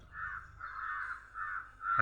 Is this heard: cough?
no